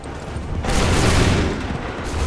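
Musket volley in Assassin's Creed 3, a dense burst of massed gunfire erupting loudly at once and rolling into a sustained crackling roar before tapering slightly.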